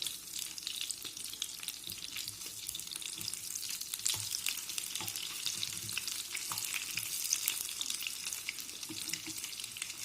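Chicken liver pancakes fry in a pan with a steady, soft sizzle and occasional crackling pops, close by and without talk.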